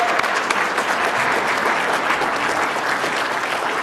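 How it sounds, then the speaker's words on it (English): Dinner-event audience applauding the cafe staff at an awards night, a continuous, even wash of many people clapping, fairly loud and with no voices over it. "I'd like to give a big round of applause for the staff from the Suprema Cafe and Windfall Industries"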